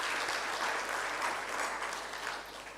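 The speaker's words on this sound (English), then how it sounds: "Can you please applaud yourself?" Applause from attendees at an agribusiness youth employment event, a steady wash of many hands clapping that stays even and fairly distant, slowly tapering toward the end with no talk over it.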